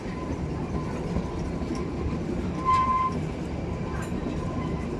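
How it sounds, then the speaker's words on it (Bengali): The Kalka–Shimla toy train rolls steadily up the mountain railway with a constant low rumble and clatter, and a brief metallic wheel squeal rises midway. "এই যে আমাদের ট্রেন"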